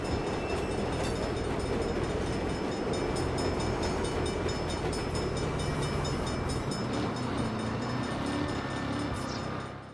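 A train rumbles past in the Saints Row video game, a loud continuous clatter of rail cars with a rising drone and faint high squeals, no voices.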